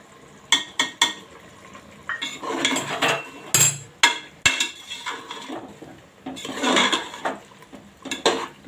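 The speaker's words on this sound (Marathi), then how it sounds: "आता हे चांगलं मिक्स करून घेऊया" Chicken being stirred with biryani masala in a pressure cooker pot: irregular metal scrapes and clinks of a spoon against the pot, with bursts of mixing noise close by and no voices.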